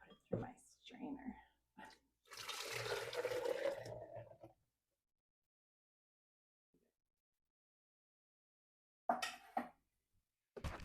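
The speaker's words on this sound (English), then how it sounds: "I'm going to put it through my strainer." Liquid poured through a kitchen strainer during a Nespresso Citiz descaling session, a soft splashing trickle lasting a couple of seconds, with brief quiet handling and a short clatter afterward.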